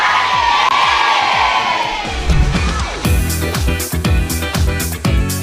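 A large crowd at a gala dinner shouts a cheer in unison, loud and close, with whoops and yells over steady amplified music and drum beats.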